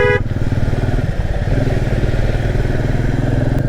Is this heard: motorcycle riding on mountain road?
yes